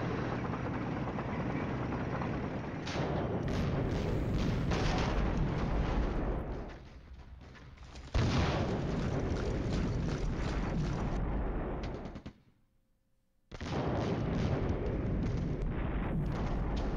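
Artillery fire in the wargame Flashpoint Campaigns: Southern Storm, a dense, continuous rumbling barrage of booming blasts that holds steady, briefly drops out near the end, then resumes loudly.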